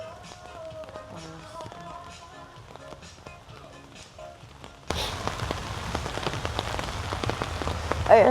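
Rain spattering steadily on surfaces outdoors at a plant market in Metro Manila, a soft patter at first that swells into a louder, denser downpour partway through, with faint background voices.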